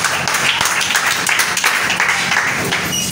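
A church congregation applauds to acclaim the Lord, with dense, steady clapping that fills the space at an even, loud level for about three seconds.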